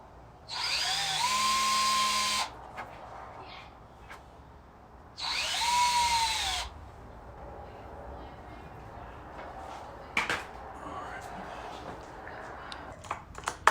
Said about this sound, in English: so now we're going to drill our pilot holes out to 11/64.